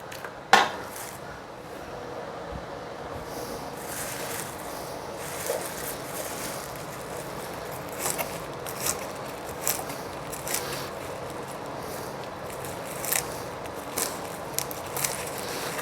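A knife chops vegetables on a cutting board for a vegan Mediterranean pasta salad. Soft, fairly regular taps repeat throughout, faint against kitchen room noise, with one sharper knock near the start.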